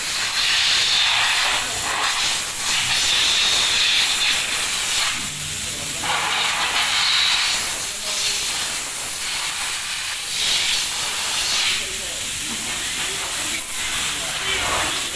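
Steam or smoke hissing from overheated vehicle brakes, a loud continuous hiss with surging bursts over a rumbling background, with a person talking faintly underneath.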